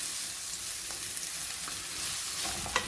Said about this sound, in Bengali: আমি এগুলোকে ভেজে নেব